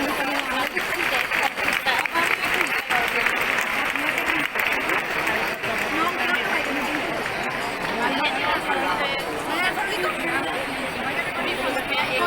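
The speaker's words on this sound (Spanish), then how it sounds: "el aplauso también de despedida para don Juan Ons" A crowd in the Málaga bullring applauds in farewell at a horse-drawn carriage driving exhibition, with sustained clapping mixed with crowd chatter and an announcer talking over it.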